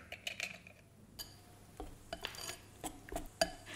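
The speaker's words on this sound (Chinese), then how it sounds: "分2次加入蛋黄搅拌" Egg yolks are whisked into a coffee cake batter in a bowl, giving quiet, irregular clinks and taps of the whisk against the bowl, with short bursts of scraping between softer pauses.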